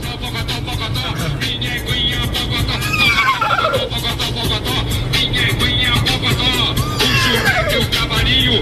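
A human voice imitates a horse's whinny twice, with descending squealing cries, over steady traffic and outdoor noise, with talk nearby.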